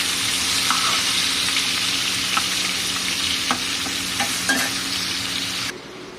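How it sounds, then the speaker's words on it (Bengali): Prawns sizzle steadily in hot mustard oil, a dense, even crackle with scattered louder pops throughout, heard close up with no talking, until the sizzle drops away abruptly near the end. "তো ওদিকে মাছটা ভাজা হচ্ছে"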